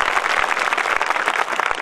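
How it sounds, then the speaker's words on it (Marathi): A crowd at an MLA's political speech in Chalisgaon breaks into loud, dense applause, many hands clapping together in a continuous roar for a brief moment. "दोघांसाठी जोरात टाळ्या वाजवा."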